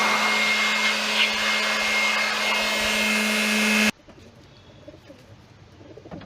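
A blower pushes water out of an LG 1.5-ton window air conditioner after washing, a loud steady rushing roar with a hum that cuts off abruptly, leaving quieter room noise.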